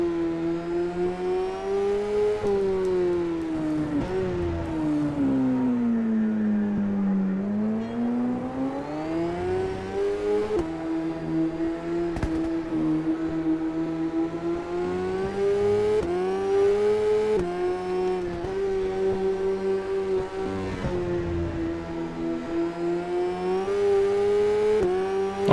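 Racing motorbike engine in SBK 08, a whining, two-stroke-like buzz that climbs and drops in pitch through gear changes over a long, steady lap.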